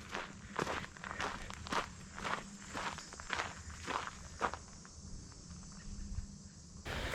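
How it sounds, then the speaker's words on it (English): Footsteps on a trail during a backpacking hike, recorded on a camera: a steady series of crunching steps roughly twice a second, close and moderately loud over faint insect chirping outdoors. "And then, of course, footsteps."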